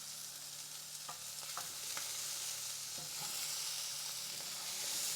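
Chickpea rice fries and crisps in a pan with a steady soft sizzle, while a few sharp scrapes and clicks of a utensil stirring ring out at intervals over the continuous hiss.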